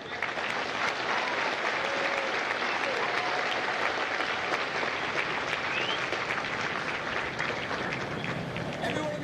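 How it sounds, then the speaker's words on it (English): A crowd at a Marine Corps recruit graduation at MCRD San Diego applauds the recruits' families, with dense, continuous clapping at a steady level through the whole stretch, plus a few scattered cheers. "please give a round of applause for the families of my company"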